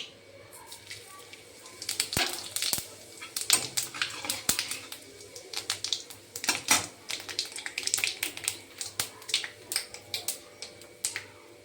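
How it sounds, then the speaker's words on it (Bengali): Whole cumin seeds hit hot oil already holding bay leaves and dried red chillies, crackling with rapid, sharp pops and spits that come in uneven bursts over a faint background hum. "দেখি গোটা জিরে দিয়ে দিচ্ছি"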